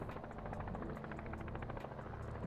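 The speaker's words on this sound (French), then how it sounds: "l'hélicoptère il descend quand même très rapidement" A helicopter sinks quickly in a practice autorotation, its rotor making a steady, dense, loud chopping roar throughout, with no voices.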